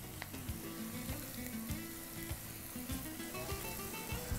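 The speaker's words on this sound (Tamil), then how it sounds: "இப்போது இஞ்சி பூண்டு ரப் போட்டலாம்." Ginger garlic paste frying in a pan, a steady close sizzle with scattered crackles and occasional stirring scrapes, no talking.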